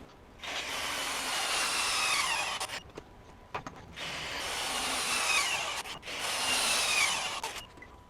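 A Hercules HCB85B 20V brushless impact wrench running in three long bursts with short pauses between them, a close, steady hammering whir with no talk.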